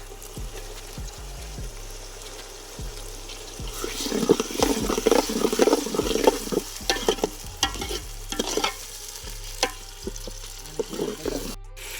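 Tomatoes and chillies for a gunda curry frying in a pan, with a rising sizzle and frequent close scraping strokes of a spoon stirring them, a low hum running underneath.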